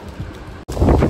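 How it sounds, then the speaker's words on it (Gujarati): Strong wind buffets the microphone outdoors at a buffalo farmhouse, a steady low rumble that cuts out briefly and then returns louder and gustier. "આવું જોરદાર પવન છે."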